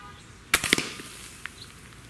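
A tuned Xisico XS28 .25 caliber break-barrel air rifle firing a JSB pellet at a soda can 40 yards away: one sharp close crack with a short rattle, then a faint distant tick of impact.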